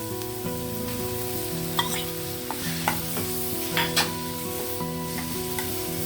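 Tomato added to sautéed onions for a green peas tomato curry, sizzling steadily while a utensil stirs, with a few sharp scraping clicks over continuous frying noise and no speech.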